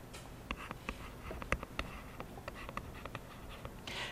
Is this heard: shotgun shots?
no